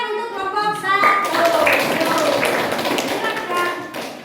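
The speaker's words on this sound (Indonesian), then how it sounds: "Tepuk tangan untuk kelompok 1." A school class claps for group 1 during a lesson, a short burst of hand claps rising after a second and holding steady, with children's voices chattering beneath.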